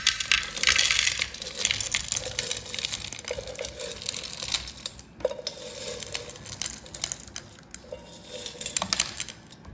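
Hard pieces of palm sugar candy clatter and tumble onto a kitchen weighing scale in uneven bursts of small clicks and rattles, close by with no talking.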